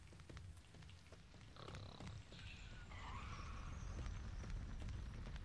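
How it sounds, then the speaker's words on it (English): A car swerves in the video game School Days 3D, with a rough, rising rumble and a faint tire-screech whine in the middle, set against steady low game noise. "I heard a car swerving"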